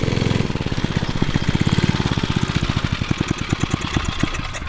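A 1970s mini chopper with a vintage Briggs & Stratton engine runs with a loud, close, pulsing single-cylinder chug that stays rapid and steady throughout, with a rough edge.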